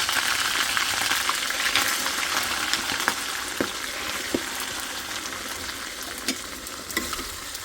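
Prawns frying together with ginger, garlic paste and chilli in a pan, a continuous loud sizzle with occasional stirring taps and scrapes, no voices.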